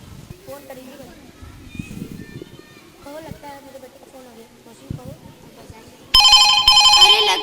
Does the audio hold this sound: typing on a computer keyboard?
no